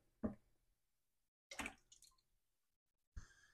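A Merrell Moab hiking shoe with a plastic upper is dipped into water three times, each dip giving a short, close splash and drip, separated by near silence.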